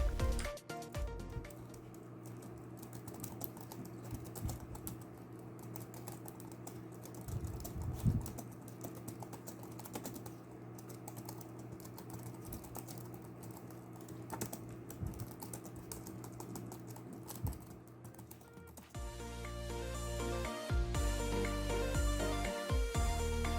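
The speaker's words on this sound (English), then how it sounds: "This is how the keyboard sounds." Rapid, continuous tapping on the keyboard of a 2006 Packard Bell EasyNote budget laptop, close and fairly quiet, with the clicking getting busier near the end.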